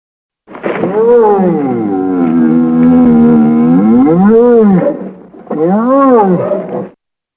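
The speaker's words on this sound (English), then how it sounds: "let's start with our bear sounds and see if we can transform them into these fantastic banthas" A loud, long, bellowing roar of a large bear, rising and falling in pitch, then a second shorter roar after a brief pause.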